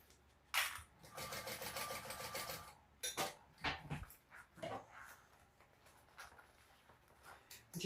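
A sewing machine stitches a traveler pouch bag, running in a fast close burst of about two seconds, followed by a person talking quietly with a few soft handling sounds.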